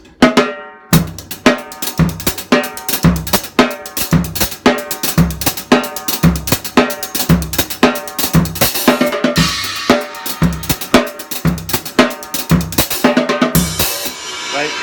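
Drum kit groove built on flams with a simple bass drum on 1 and 3: crisp, loud, closely played hits in a driving, steady rhythm with cymbal wash, alone and without fills.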